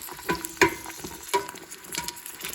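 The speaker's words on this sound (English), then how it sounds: "All right, so the vegetables are starting to saute. I just want to stir these around." Vegetables sauté in a hot pan with a steady sizzle, broken by several sharp scrapes and knocks of a utensil stirring them, close and fairly loud with no talking.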